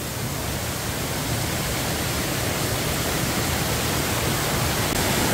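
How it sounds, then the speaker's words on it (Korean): A waterfall pours down beneath a large overhanging rock at a Korean mountain temple in Sangju, making a steady, dense rushing roar that fills the whole scene without pause. "그 아래로 폭포가 떨어져요."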